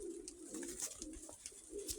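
A dappled blue-grey female pigeon coos softly in a low, repeated rolling call, faint and close, with a little background noise.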